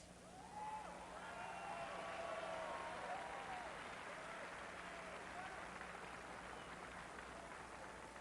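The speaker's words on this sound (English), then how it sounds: "We can applaud that statement" A large convention crowd at the 1992 Democratic National Convention applauds a keynote line, a broad, distant roar of clapping and cheering that swells early and holds steady, with faint voices mixed in.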